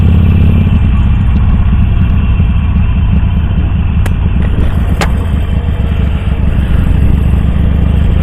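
Continuous close motorcycle engine rumble and wind while riding a newly upgraded bike on an open road on a breezy day, steady and loud throughout with a couple of brief clicks and no talk.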